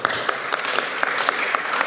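Steady applause fills a Viljandi city council session, with many hands clapping evenly and densely throughout, no voices standing out above it.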